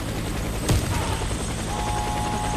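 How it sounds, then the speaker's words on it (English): Helicopter in the shooter game Warface, a steady loud rotor drone filling the whole moment, with a brief sharp impact early on and faint game effects underneath. "Proceed to the helicopter."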